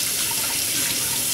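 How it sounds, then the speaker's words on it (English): Sweet onion being rinsed under a running kitchen tap, a steady close splashing hiss of water from the faucet with no talk over it. "give it a quick squirt under some water"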